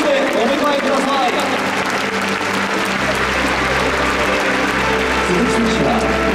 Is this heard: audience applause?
yes